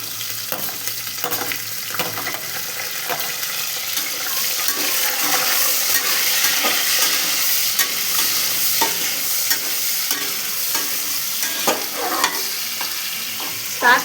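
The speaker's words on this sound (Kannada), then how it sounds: "ಇವಾಗ ಆನಿಯನ್ ಹಾಕು. ಹಸಿಮೆಣಸೆ ಆನಿಯನ್ 2 ಹಾಕು." Onions and green chillies for biryani fry in a pan with continuous loud sizzling, punctuated by scraping stirs and a final clank.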